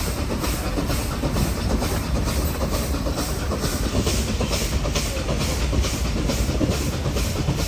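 The Ooty toy train on the Nilgiri mountain railway rumbles along near Kallar, a loud, close, continuous roar of wheels and carriages with rhythmic clacking and a hissing edge, no talk over it.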